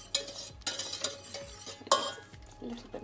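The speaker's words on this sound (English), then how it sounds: "A little bit more flour with that butter." Flour being stirred into melted butter in a pan for a white sauce, with a few quiet scraping and clinking strokes of a utensil against the pan in short bursts.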